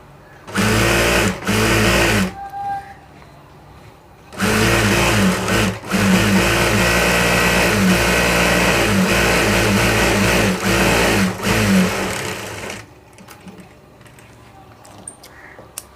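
A sewing machine runs in loud, steady bursts while stitching a gathering band, with short pauses between runs and a final quieter stretch, no talking over it.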